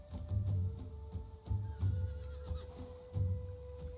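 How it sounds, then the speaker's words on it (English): A wild horse in a video game neighs and whinnies repeatedly in short bursts, fairly close, with a faint tonal background hum. "Oh, wild horse."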